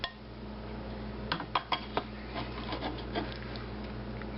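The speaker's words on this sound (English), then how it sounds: "And just stir that in there." Spoon stirring cowboy creamy potato soup in a pot, with a few scattered clinks and light scraping against the pot over a constant low background hum.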